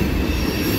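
Train passing on the Old Main line at Morgan Road, loud and close with a continuous roar of rolling wheels and metallic squeal, steady throughout.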